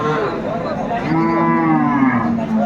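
A cow with her calf lows at a village cattle market, one drawn-out moo that rises and bends in pitch, close and loud, lasting nearly three seconds with no speech over it.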